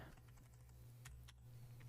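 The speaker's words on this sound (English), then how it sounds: "Ctrl K on your keyboard" Computer keyboard keys pressed for a shortcut in 3D animation software, a few quiet, close clicks over a steady low electrical hum, no talking.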